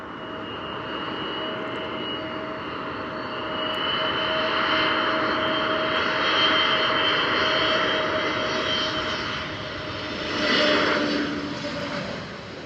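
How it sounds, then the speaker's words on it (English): An airplane on final approach to land at Ponta Delgada drones steadily as its engines grow louder, swelling toward the middle and again near the end, with no voices over the continuous roar. "Just off to my left, I can see the landing lights of a plane on final approach."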